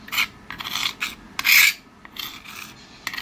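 Boiled jackfruit seeds are being ground into paste on a grinding stone, a series of short, close, raspy rubbing strokes in an uneven rhythm, with a louder stroke near the middle.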